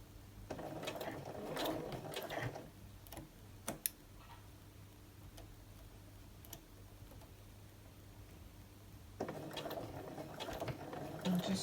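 Sewing machine stitching a cosmetic bag, running in two close, steady bursts of rapid mechanical ticking separated by a quiet pause, with no talk.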